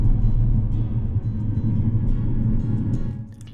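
Steady low rumble of a VR Intercity train running from Helsinki to Parikkala, heard from inside a two-seat compartment, with a continuous loud drone that eases slightly near the end.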